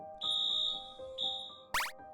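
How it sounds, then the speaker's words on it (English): A fire alarm sounds in a practice room, giving two long, steady high-pitched tones with a short gap between them, then a brief, sharp burst of other sound at the end. "suddenly the fire alarm went off"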